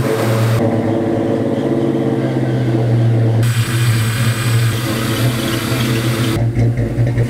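A 2002 Ford Mustang V8 firing up for its first start after a build, settling into a loud, lumpy, choppy idle with steady low rumble and a few throttle blips, heard up close with no talking.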